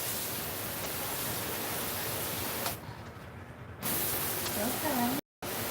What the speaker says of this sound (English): Take it off that nozzle. Put it on more of a spray. And it's working.